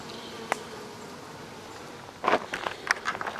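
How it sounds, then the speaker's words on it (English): Honeybees from a wild colony in an old hickory log buzz softly nearby, with sharp knocks and rustling handling noises joining in the second half. "But there's some good bees."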